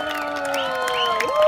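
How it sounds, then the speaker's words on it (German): Crowd at a medieval market in Gangelt applauding and cheering the winner of a hobby horse derby, a brief burst of clapping with high voices, children's shouts and whistle-like calls. "Einen großen Applaus für den Sieger des ersten Steckenpferd-Derbys in Gangelt"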